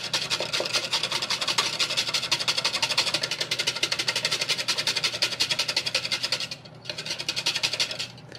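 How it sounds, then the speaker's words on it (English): A large kitchen whisk scrapes rapidly around a small measuring cup while mixing a rice vinegar dressing, a fast, even, close rhythmic clatter with a short pause near the end. "What we're gonna do here is we're gonna whisk this. We're gonna add some rice vinegar."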